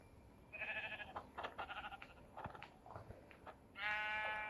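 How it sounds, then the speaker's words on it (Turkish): Minecraft sheep bleat several times in short, nasal calls, with soft clicks and movement sounds between them and a longer bleat at the end. "Koyun var burada öldürüyorum."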